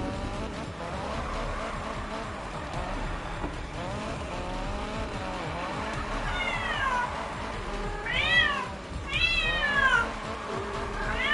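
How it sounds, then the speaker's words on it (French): A cat meows several times, rising and falling cries growing louder toward the end, over a steady background of video-game car racing engine noise and skidding. "La ferme, le chat là."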